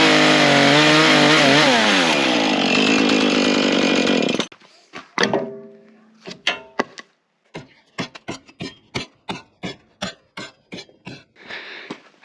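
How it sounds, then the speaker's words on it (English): A chainsaw cuts timber for a logging truck build on a 49-year-old Ford: a loud sustained cut at first, then the saw falls silent and a run of sharp knocks and taps follows. "Chainsaw carpentry."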